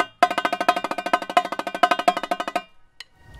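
A rapid run of crisp, evenly spaced marching tenor drum strokes with accents, playing a nine-let figure for a couple of seconds, then stopping abruptly, followed by near silence.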